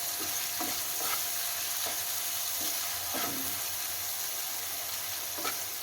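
Ingredients roast in a pan for a vrat thali, giving a steady, close sizzle with occasional scraping stir strokes spread across the whole stretch and no talk.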